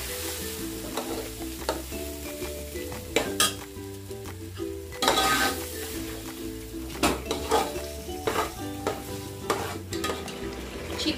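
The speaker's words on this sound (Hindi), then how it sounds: "चिकन को ऐड करने के बाद हाई फ्लेम पे चिकन को अच्छे से भून के लेंगे" Chicken frying and being stirred on a high flame for Eid chicken dum biryani, a steady close sizzle with repeated spatula scrapes and knocks against the pot, no voices.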